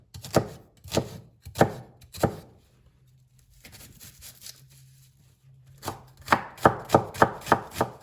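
A kitchen knife slices onions very thinly on a cutting board for a lasagna bolognese sauce: three crisp spaced chops, a pause over a low hum, then a quick run of close, sharp cuts.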